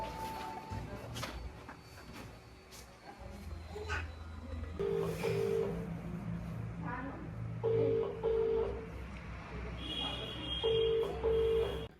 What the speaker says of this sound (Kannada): ಅವ್ನ ದೋಸ್ತರಿಗೆ ಫೋನ್ ಹಚ್ಚಿ ಕೇಳ್ಸಾರ